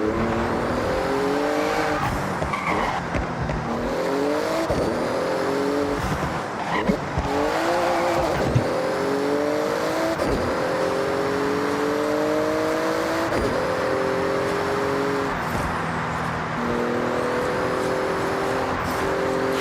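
A Porsche races through a speed zone in the video game Forza Horizon, its loud engine revving up through repeated rising gear pulls. Brief drops between shifts break the steady, close roar, with light tire noise and no speech.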